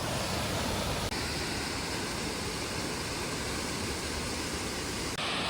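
A huge waterfall in Greenland, roaring as a loud, steady wash of falling water that fills the whole span without a break, no voices present.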